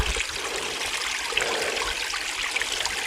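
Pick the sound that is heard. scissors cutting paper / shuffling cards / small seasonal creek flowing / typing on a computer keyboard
small seasonal creek flowing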